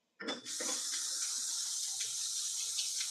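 Kitchen tap switched on to rinse rice, a sudden gush followed by a steady, bright hiss of running water that continues unbroken at close range, with no talking.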